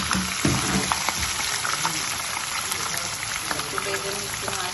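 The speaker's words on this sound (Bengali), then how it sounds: "আমি পুকুরের কোরাল মাছ তো হালকা একটু বেজে নিচ্ছি" Pond koral fish fries lightly in a pan, giving a continuous close crackling sizzle with occasional soft clatters from stirring or turning.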